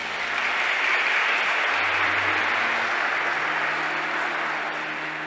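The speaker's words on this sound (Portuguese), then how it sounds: "As mulheres, uma salva de palmas." A church congregation applauds the women during a Catholic sermon, a steady wall of clapping that holds evenly for several seconds before tapering slightly.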